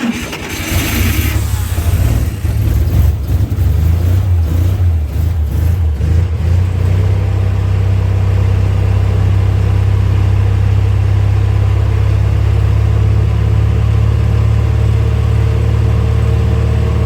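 A 1962 Dodge M37 engine runs after sitting for 45 years, starting with uneven sputtering revs before settling into a loud, steady rumbling idle close by.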